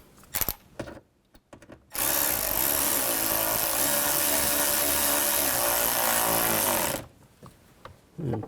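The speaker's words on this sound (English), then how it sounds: "Put these screws back in. Get that started. Tighten it up." Screws being driven into the front inner door panel of a 2000-06 GMC Yukon with a power driver: one steady, loud whirring run lasting about five seconds, with soft handling clicks before and after.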